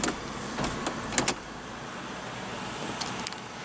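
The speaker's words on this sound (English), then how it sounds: "Automatic driver's side window." The automatic driver's side power window of a 1996 Ford Taurus GL with a 3.0 L V6 whirs quietly inside the car, with a few sharp clicks and taps near the start and end.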